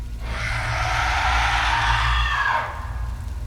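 A long, loud, eerie scream swells and holds for about two seconds over a deep rumble, then breaks off and leaves the low drone.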